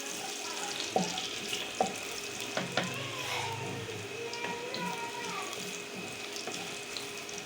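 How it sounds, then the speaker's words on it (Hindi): Chopped garlic frying in a pan for chow mein, a steady close sizzle with scattered clicks and taps of stirring utensils against the pan. "पहले इसमें डालूंगी मैं लहसुन, इसे थोड़ा सा हल्का ब्राउन करेंगे"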